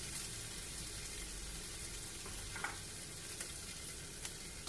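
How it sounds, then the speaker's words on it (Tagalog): Sliced zucchini with minced pork fries in a pan, giving a steady, close sizzle with faint stirring clicks and scrapes throughout, no voices. "Then i-fry na natin yung ating zucchini."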